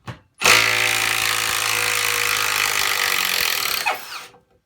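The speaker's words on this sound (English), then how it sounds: "And that thing just plows that lag in there." A Milwaukee 2754-20 3/8-inch Fuel cordless impact wrench drives a lag screw: one loud, continuous burst of rapid hammering impacts lasting about three and a half seconds, close up, then winding down and stopping.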